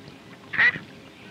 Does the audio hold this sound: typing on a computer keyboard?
no